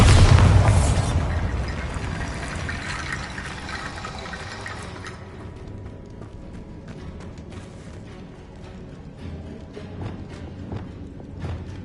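A Bombarda blasting spell explodes inside a tomb in Hogwarts Legacy, a loud deep boom at the start that decays into a long rumbling, clattering tail of falling debris.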